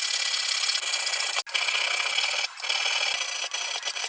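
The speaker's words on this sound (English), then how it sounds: "I'm just going to file this out carefully and then start drilling" A metal file rasps steadily across a printed part being shaped by hand, close and continuous in repeated strokes with a few short pauses between passes.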